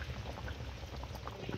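Crab and potato curry bubbles in a pot over a coal stove, a continuous close burble of small popping bubbles at a low, even level.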